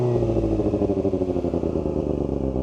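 A Kawasaki ZX4RR motorcycle shifts gears with its quick shifter, its close mid-pitched engine pulsing in a quick, rapid rhythm with a light mechanical clatter throughout.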